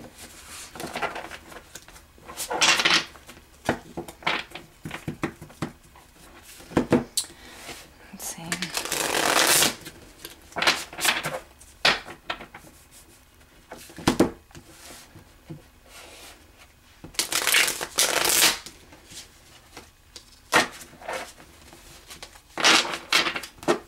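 Repeated bursts of card shuffling, close and crackly, separated by short pauses with soft handling noises in between.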